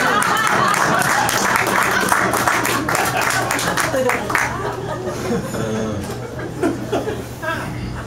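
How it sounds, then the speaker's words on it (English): An audience claps after a poetry reading, a full round of applause mixed with chuckles and scattered chatter, tapering slightly toward the end. "thank you for that applause"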